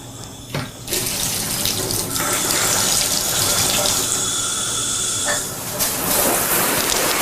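Water from a shower faucet runs steadily, hissing and splashing into a tub during a HUD rental unit inspection, close and continuous with a brief dip near the start and a few small surges.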